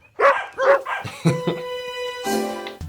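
Cartoon dogs from a Simpsons episode bark in a quick burst of several sharp yaps, followed by a sustained musical tone and a swelling chord, all close and clear without speech.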